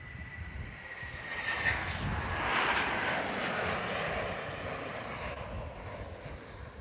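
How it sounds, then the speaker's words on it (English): A United Airlines Boeing 757-300 jet rolls down the runway on its takeoff run to Denver, its engines roaring loudly and steadily, swelling and holding at a heavy, close rumble with a broad whine over wind noise. "rolling down 15 right, we have United Airlines 2735 off to Denver, another 757-300"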